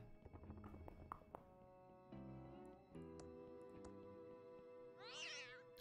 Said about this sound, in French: Oui, pauvre chat.